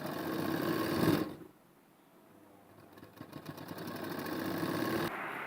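A sewing machine stitches the back neck of a blouse, its faint mechanical whirr running briefly, pausing into near-quiet, then building back into a steady hum close by.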